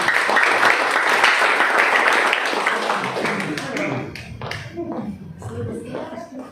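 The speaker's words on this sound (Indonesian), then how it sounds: "Kita berikan sekali lagi tepuk tangan yang meriah bagi Tuhan Yesus." Church congregation applause in a Sunday worship service, loud sustained clapping that thins out and fades over the last few seconds, with speech heard faintly underneath.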